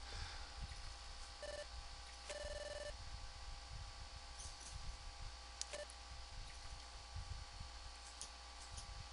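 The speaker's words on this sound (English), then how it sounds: "I just turned my phone on. Text message." A phone chimes with a text message notification after being switched on, giving a few short tonal beeps over a steady background hum, with no talking.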